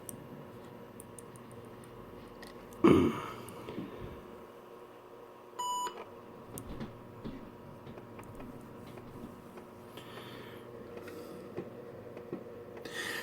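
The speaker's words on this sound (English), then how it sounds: "you just keep beeping." An IBM ThinkPad 380ED laptop lets out a single short, high electronic beep partway through, preceded by a louder clunk, with faint mechanical ticking and a low hum continuing throughout.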